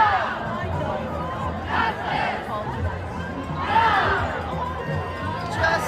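A large political rally crowd chants and cheers, a dense roar of many voices swelling in waves with louder rhythmic surges, filling the space continuously.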